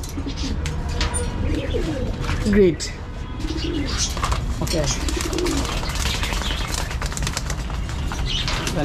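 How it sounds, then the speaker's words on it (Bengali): Pigeons coo in a low, rolling murmur while wings flap in a brief loud burst as they are fed; a person speaks a few words over the birds. "তো এখন আমি কবুতরগুলোরে খেতে দিই"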